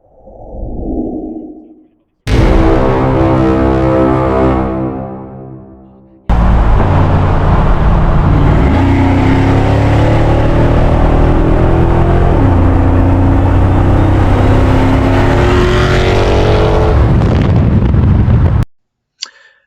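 A Dodge Hellcat with a mid muffler delete revs hard and loud up close: a brief quieter rev first, then two long, roaring bursts with crackling pops before cutting off abruptly.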